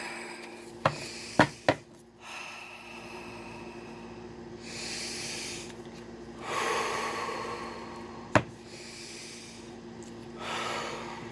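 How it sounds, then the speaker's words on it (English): Several slow, deep breaths drawn in and let out during a calm moment of centering, soft airy swells with a few sharp sniffs near the start, close and quiet with no talking. "So, I take a few deep breaths."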